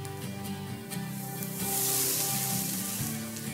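Potatoes go into a pot with browned onion and fry with a soft sizzling hiss that swells briefly in the middle, mixed with low steady background hum. No one talks.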